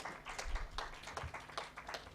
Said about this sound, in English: I think the clap can be a bit louder than that.